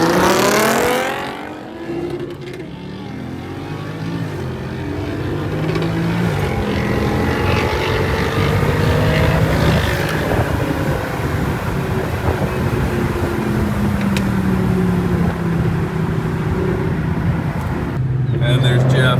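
A Corvette pulls away at the start of a road rally and accelerates steadily, its engine rising and holding a loud drone from inside the car for most of the stretch.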